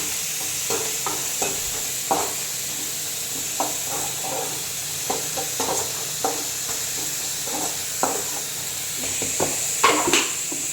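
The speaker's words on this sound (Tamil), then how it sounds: "இது நல்லா ஃப்ரை பண்ணணும்." Broad beans poriyal is stir-fried in a pan, with a steady sizzle under repeated scraping strokes of a spoon at an irregular, unhurried rhythm, close and clear with no talking.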